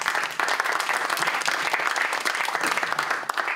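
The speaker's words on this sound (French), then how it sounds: "je pense qu'on va applaudir parce que c'est assez rare, Corinne Noël" Audience applause fills a room at an engineering round-table panel as a guest is introduced, dense steady clapping from many hands holding at an even level throughout.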